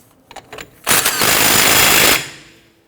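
A pneumatic impact wrench tightens the axle nut on a 2006-2014 Honda Ridgeline during front steering knuckle replacement, a couple of short bursts followed by one loud sustained rattling hammer of about a second, close by and alone.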